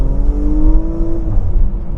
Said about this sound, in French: on entend ce bruit de soufflerie entre l'avant et l'échappement arrière qui vient du coup déculper la sensation de conduite